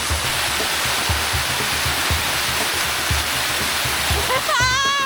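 Waterfall in Thailand pouring in a steady, loud broadband rush, with low thumping steps or splashes underneath and a brief voice rising near the end.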